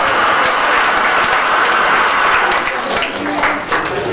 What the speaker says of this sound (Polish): Duże brawa dla mamy pani młodej.